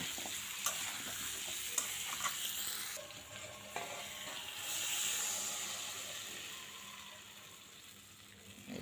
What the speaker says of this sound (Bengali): তো আমি এখানে আবার ধনিয়ার গুঁড়া দিয়ে দিছি, একটু নাড়াচাড়া করে তারপর পরিমাণ মতো জল দিয়ে দিব